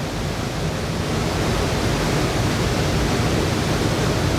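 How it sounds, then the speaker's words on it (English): Rattlesnake Falls in Pinchot State Forest, a large waterfall seen from a small cave, roars as a steady, loud, broadband rush that fills the whole stretch without a break. "here we are, Rattlesnake Falls here in the Pinchot State Forest"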